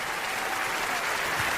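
A church congregation claps together in a dense, continuous burst of applause, heard from within the room at a fairly low, even level and cut off quickly.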